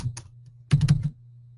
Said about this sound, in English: let's type in Robert